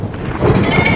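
Rolling thunder from a storm, a low, sustained rumble that swells louder partway through and holds at close range with no voices.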